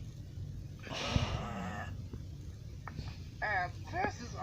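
A cartoon voice imitates sheep bleating, giving a few short, wavering bleats after a brief spoken sound.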